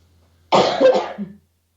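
A single short, harsh cough, close and loud, rising out of near silence and trailing off after about a second.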